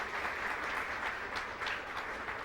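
A church congregation claps together in sustained, fairly distant applause, a dense even patter that holds steady without talk over it.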